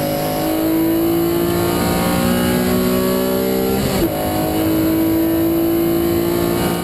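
An old Honda NSX sports car engine holds a loud, steady high-revving drone, with its pitch dipping and climbing again midway as the car shifts and accelerates.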